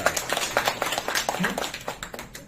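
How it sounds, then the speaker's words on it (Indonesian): A small audience claps hands at a health talk, a short run of irregular claps rising and thinning over a couple of seconds, fairly close, with a faint voice underneath. "Tepuk tangan dong."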